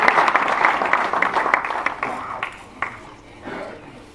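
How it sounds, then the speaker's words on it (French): Audience applause at a sports club partners' evening, a burst of clapping that thins and fades out over a few seconds, leaving a few scattered claps. "Applaudissements s'il vous plaît pour Monsieur Geste"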